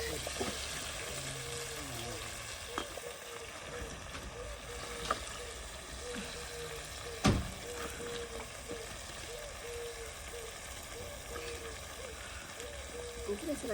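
Fresh spinach tossed into a hot pan on a gas stove gives a steady, hissing sizzle that runs throughout, with people talking over it.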